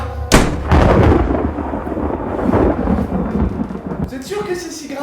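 A thunderstorm sound effect opens with a sharp, loud thunderclap, then a long rumbling roll of thunder over steady rain that fades slowly toward the end.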